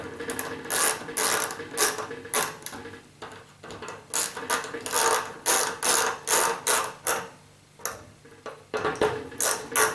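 A hand ratchet clicks in rapid bursts while tightening the bolts that hold the rear drum bearing of a Candy or Hoover tumble dryer, a close, rhythmic metallic whirr that pauses briefly between strokes.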